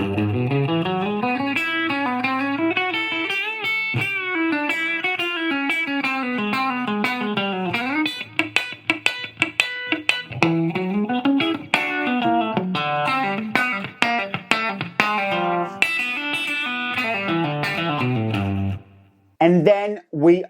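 Country electric guitar licks played with hybrid picking run as a continuous, loud stream of quick twangy notes and bends through effects, close and alone, ending in a few separate plucks.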